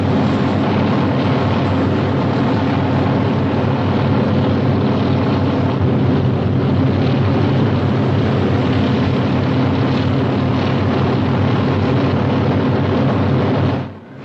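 A helicopter flies steadily overhead in a 1950 British film during a manhunt over woodland, its engine and rotor drone loud, continuous and unbroken for the whole stretch before cutting off abruptly at the end.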